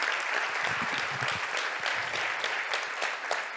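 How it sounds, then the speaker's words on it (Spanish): A gathering on health system integration breaks into applause for the event organizers, a continuous burst of many hands clapping for a few seconds. "Pedirle también un aplauso, por favor, a los compañeros que organizaron."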